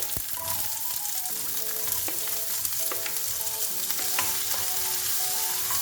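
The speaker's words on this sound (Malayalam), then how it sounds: "ഇത് ഗോൾഡൻ കളർ ആവുന്ന വരെ ഒന്ന് വഴറ്റിയെടുക്കാം." Chopped onions sautéing in a hot pan for a Kerala chana dal masala, a steady close sizzle with scattered light clinks of a spoon against the pan, no talking.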